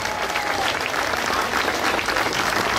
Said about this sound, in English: Let's go ahead and give a round of applause for everybody.